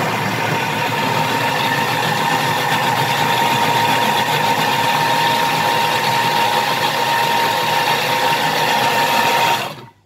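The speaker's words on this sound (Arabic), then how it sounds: "ودابا هو غادي يطحن هاد الفواكه هادو 10 ديال لو سكوند" A Thermomix blade grinds fruit at high speed, a loud, steady motor whine with a constant hum that runs unbroken for about ten seconds before stopping abruptly.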